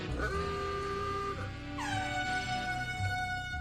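Car horn in the Roblox Brookhaven game, sounding as sustained steady tonal blasts, with a pitch shift partway through, loud and alone without talk.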